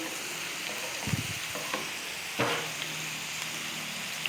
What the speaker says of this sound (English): Meanwhile, we should stir our chili.